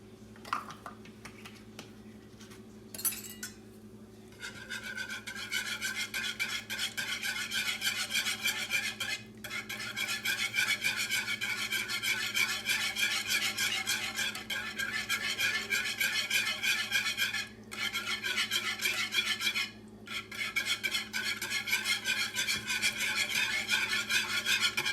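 Gravy sauce ingredients being whisked together in a pan, a continuous rapid scraping and rattling rhythm close up that briefly pauses a few times, with no talking.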